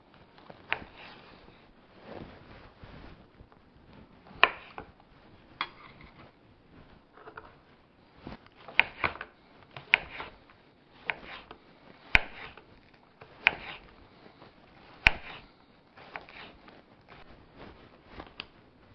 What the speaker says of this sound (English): I think I'm going to do here is cut the roots off of my onions.